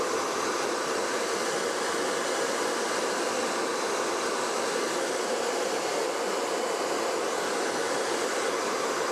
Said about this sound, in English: I'm going to use a hairdryer and try and heat them up and just see if they come off.